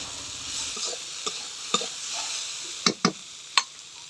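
A ground paste of mustard, cumin and dried chilli stirred gently in a hot pan, a soft continuous sizzle broken by a few sharp clinks and scrapes of the spoon, close and without talk.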